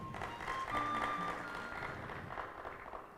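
Audience applause follows a poetry reading by poet Ahn Do-hyun, a soft, fairly distant patter of clapping hands that swells briefly and then settles, with a faint tonal hum underneath.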